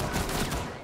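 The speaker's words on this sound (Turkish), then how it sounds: "O pompalı gibi bir pistol ya." Rapid pistol shots in a Rainbow Six Siege ranked match, a dense, loud burst of cracking gunfire lasting under a second amid busy game noise.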